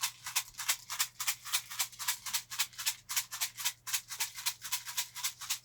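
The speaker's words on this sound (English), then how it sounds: "I would start with the rattle, going all around your body" A rattle shaken steadily around a person's body during a healing session in a studio: rapid, even bursts of dry rattling, close and fairly quiet, with no talking.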